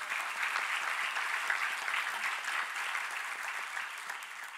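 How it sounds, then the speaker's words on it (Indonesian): A church congregation applauding during a Sunday sermon, steady dense clapping from many hands that holds at an even level for the whole stretch, with no one speaking over it. "Berikan tepuk tangan sekali bagi Tuhan Yesus."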